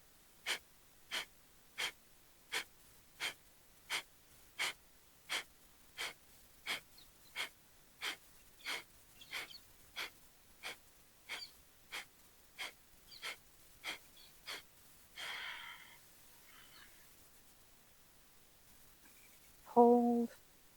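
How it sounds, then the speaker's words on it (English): Breathing exercise: about twenty rapid, rhythmic breath strokes, then one long, deep inhale, followed by quiet and a short voice at the end. "Let's do it together. Inhaling"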